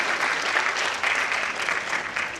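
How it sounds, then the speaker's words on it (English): Applause for an esteemed guest at an award ceremony, a dense, steady wash of many hands clapping together at full strength throughout, with no talking. "let's have a round of applause for our esteemed guest"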